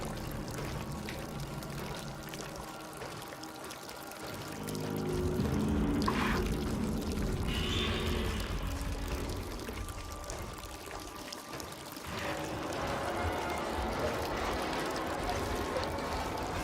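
Water pours onto a fire aboard a burning ship in the horror game Layers of Fear 2, a sustained rushing stream over a dense rumbling background that swells and eases across the scene.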